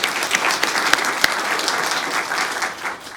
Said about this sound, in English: So just a quick round of applause